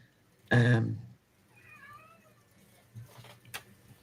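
A domestic cat meows once loudly and close, followed by a few fainter, higher mewing calls and a short sharp sound near the end.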